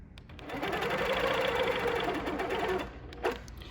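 A sewing machine stitches steadily along a quilting ruler, running as a continuous fast whir for nearly three seconds before stopping, followed by a small click.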